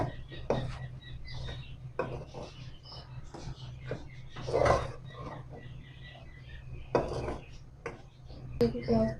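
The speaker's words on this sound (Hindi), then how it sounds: "खुश्क धनिया, अब इनको हम अच्छी तरह मिक्स करेंगे" Spices and dried coriander are stirred in a pot with a utensil, giving irregular scrapes and knocks against the metal over a low background hum.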